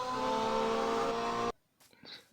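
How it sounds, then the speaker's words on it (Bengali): A Lamborghini-style car in a Minecraft car race gives a steady, buzzing, engine-like drone with layered tones for about a second and a half, then cuts off abruptly, leaving only faint scattered noise. "গাড়িটা সর্বনাশ, কি একটু আওয়াজ রে!"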